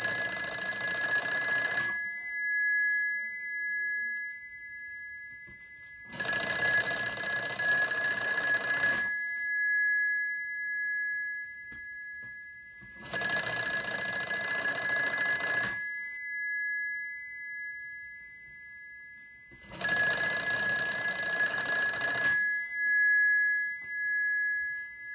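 Gongs of an Automatic Electric Type 41 telephone ring in four loud metallic bursts of about two seconds each, separated by roughly four seconds of silence, heard alone with no talking.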